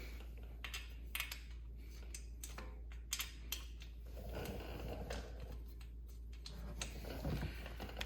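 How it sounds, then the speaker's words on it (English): 12 mm brake caliper bolts on a Yamaha Warrior 350 ATV are run in by hand with a ratchet, giving faint, irregular clicking and rattling in a quiet space. "Once they're hand started, you can bring them in."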